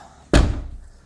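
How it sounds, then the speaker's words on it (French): An indoor door is pushed shut with a single loud, close slam and a short thud that trails off quickly into room quiet. "je vais fermer la porte."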